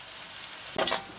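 Onions frying in oil for a small fish curry, a steady soft sizzle with one brief louder stir or scrape near the end, no voices.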